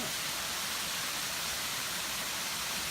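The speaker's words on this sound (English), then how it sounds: "we just ran into this cool waterfall" Outdoor waterfall on a backpacking trail in Dolly Sods, West Virginia, on a cold day: a continuous, even rush of falling water, bright and hissing, heard up close without voices.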